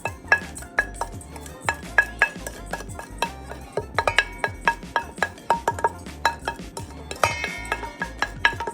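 A spoon clinks and scrapes repeatedly against a bowl while thyme, Old Bay and Sazon seasoning are mixed into raw salmon, a steady close rhythm of metallic taps and stirs.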